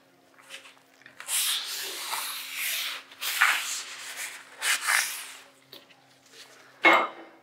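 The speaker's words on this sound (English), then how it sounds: "Using a clean cloth, remove all residue from the surface of the Manway lid and the nozzle." A clean cloth wipes residue off a metal manway lid and nozzle in several close, scratchy rubbing strokes of varying length, separated by brief pauses and ending with one sharper swipe.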